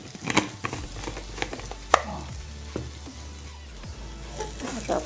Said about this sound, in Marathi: आता आपण याला हलवून घेऊ.